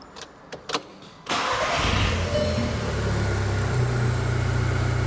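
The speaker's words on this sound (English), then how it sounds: "Guys, the car is running. She's running smooth." A Volkswagen Golf R MK6 engine, freshly installed, cranks and catches after a few faint clicks, then settles into a steady, smooth idle with a low rumble, close and loud.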